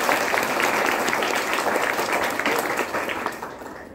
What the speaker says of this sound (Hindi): तो एक बार तालियां बजाएं